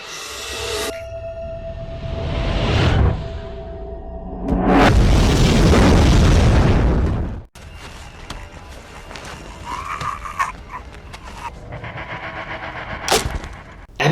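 A dynamite blast set off by a flare in a vampire horror film scene roars out as a long, loud boom of rumbling noise, preceded by a rising whoosh and followed by quieter scattered debris and ambient sounds.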